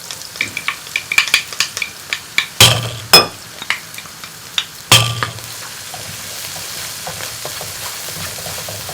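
Chopped onion frying in a pan alongside aubergine for a bhajee, with a steady hiss broken by sharp clinks and scrapes of a utensil against the metal, two louder knocks standing out before the sizzle settles into a continuous crackle.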